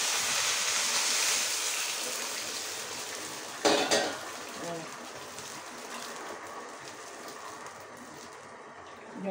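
Hot water is poured into rice in a cooking pot for Bengali Basanti pulao and stirred, a loud rushing pour fading into scraping and clinking of the spoon against the pot, with brief speech.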